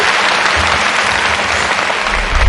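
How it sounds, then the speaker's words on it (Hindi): Dense applause from a large audience at a spiritual satsang gathering in Surat, steady and loud throughout with no pauses, a broad even wash of clapping. "ताली पाड़ने का शौक पूरा कर लो,"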